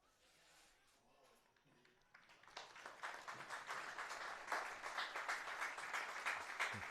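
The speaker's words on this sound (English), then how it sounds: "And Bennett gets a big round of applause." A football crowd at a varsity game, Suffield against Deerfield, applauds an injured four-year starter as he is helped off the field, scattered claps at first and then a steady, distant round of applause.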